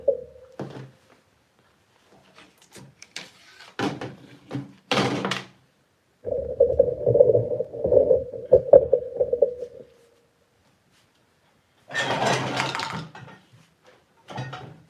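A sewing machine stitching a blouse sleeve runs in one steady humming burst of about four seconds, framed by handling thumps, clicks and fabric shuffling in a quiet room.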